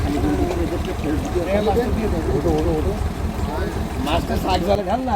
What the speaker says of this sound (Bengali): ট্রলার আসছে আমাদের নিতে।